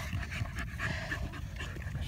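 Two dogs, Lexie and Ace, wrestle and pant close by, with rapid, continuous breathy huffing and small scuffling noises throughout.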